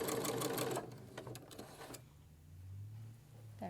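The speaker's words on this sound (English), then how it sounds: "We're now going to sew all the way down this line" A sewing machine fitted with a walking foot stitches quilt binding in a brief close burst of rapid mechanical clatter, then fades to a quieter low motor hum and a faint whirr, with no voice.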